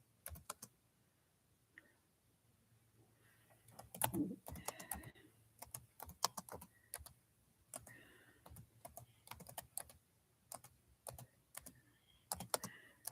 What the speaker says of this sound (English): Let me type that down in the chat.